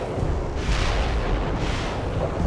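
Heavy artillery barrage in the real-time strategy game World In Conflict, a continuous loud rumbling roar of distant booms and explosions blending together with no pauses.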